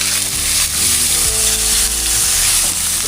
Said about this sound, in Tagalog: Prito muna tayo ngayon.